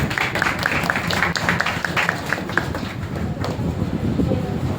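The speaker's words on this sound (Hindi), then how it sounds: "जोरदार तालियां" Loud, sustained applause from a gathering at a Panch Kalyanak celebration in a Digambar Jain temple in Meerut, a steady wash of clapping that stays even and full throughout.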